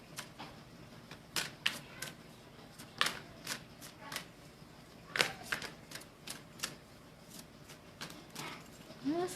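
A deck of playing cards is shuffled over and over. It makes quiet, crisp bursts of riffling clicks in an uneven rhythm, with short pauses between shuffles.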